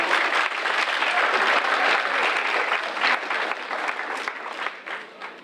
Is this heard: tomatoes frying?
no